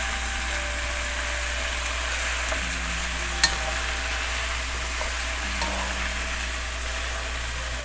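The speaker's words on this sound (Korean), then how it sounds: "여기다가 묵은지 아까 썰어놨던 거, 아이고 뜨거워라, 막 튀네요, 기름이." Aged kimchi being stir-fried in hot oil with vegetables, a steady crackling sizzle and splatter with occasional stirring scrapes and one sharp clack, close and continuous throughout.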